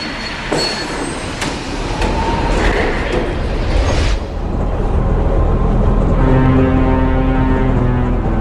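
A train at Frankfurt railway station, heard as loud, steady rumbling rolling stock with wheel squeal and clanking, plus a sustained horn-like tone toward the end, with no talking.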